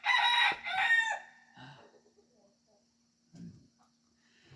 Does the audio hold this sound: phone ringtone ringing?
no